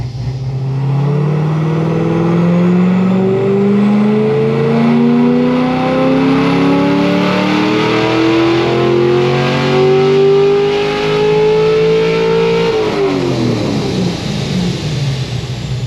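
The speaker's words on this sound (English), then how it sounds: "I'm just gonna do another one to rev it a little higher." A forged car engine revs hard on a dyno, its loud steady tone climbing for about twelve seconds before dropping sharply off throttle, close and continuous with no talk.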